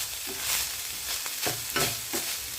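Ground beef sautéing with a beef Knorr cube in a pan, a steady sizzle broken by several scraping stirs of a spatula, close and alone with no voices.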